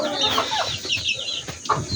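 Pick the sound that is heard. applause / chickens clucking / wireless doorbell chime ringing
chickens clucking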